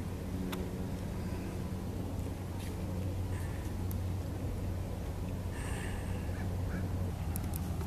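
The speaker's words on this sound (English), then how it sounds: "there's about 10 Canada geese" About ten Canada geese at Magnuson Park give faint, scattered honks from a distance over a constant low outdoor rumble.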